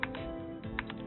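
Keys tapped on a computer keyboard with a custom per-key highlight setting, a quick irregular run of close, crisp clicks over a steady background hum.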